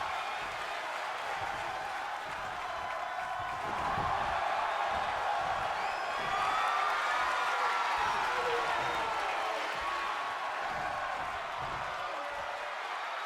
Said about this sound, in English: Hear the crowd booing a little bit at the tactics of Angela Lopez